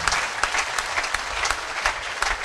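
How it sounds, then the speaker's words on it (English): A church congregation claps for Jesus during a prophecy service with anointing water, a dense, steady crowd applause with a few sharper claps standing out. "Can you clap for Jesus for this anointing water?"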